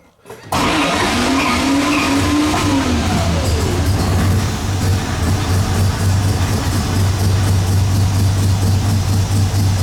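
A classic car's engine fires after a quiet start and settles into a loud, steady, slightly lumpy idle that runs close by without a break, with a rising and falling tone over the first few seconds.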